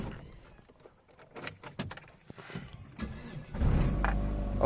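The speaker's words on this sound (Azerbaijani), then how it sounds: "İndi maşını işə salaq." A car engine cranks and catches using a newly cut key, building to a steady, close idle in the last second, with faint key jingling and handling noises beforehand.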